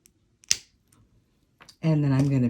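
A single sharp snip sounds as excess jewelry wire is cut while wire wrapping a simple-loop cluster earring. A few faint clicks follow, then a person begins talking.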